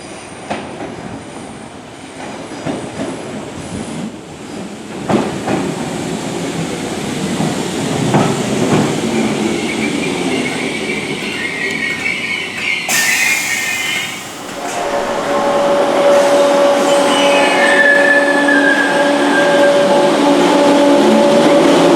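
A Merseyrail electric train rolls through a station with wheel squeal and clickety-clack, rising and falling in loudness, followed by a steady tonal hum as it runs close by.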